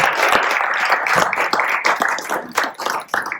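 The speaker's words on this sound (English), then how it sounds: "let's give Dr. Tim Short a round of applause." Audience at a church rector's forum breaking into applause, dense continuous clapping from many hands, fairly loud and close, with no talking over it.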